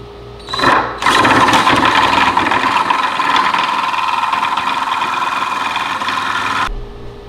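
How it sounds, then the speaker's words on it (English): Tenon cutter cutting a tenon on oak: a motor spins up sharply after a short pause, then a sustained high whirring cut with gritty texture runs several seconds before stopping abruptly; no speech. "I do that with a tool called a tenon cutter"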